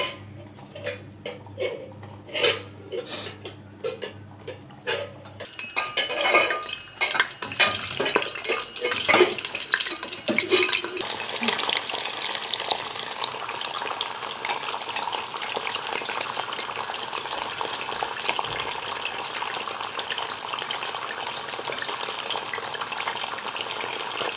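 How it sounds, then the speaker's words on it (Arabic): Zucchini for stuffed zucchini with meat drops into hot oil in a pot, a few sharp clatters and spits giving way to a loud, continuous close frying hiss that holds steady to the end. "الحله سخنت والزيت سخن وكل شيء تمام. ننزل بقى بالكوسه اهو."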